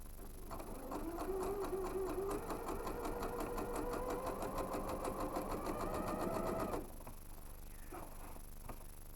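A sewing machine stitching a side seam of a garment runs at a steady rapid chatter for about six seconds, close and clear, then stops, leaving a few light clicks and handling noises.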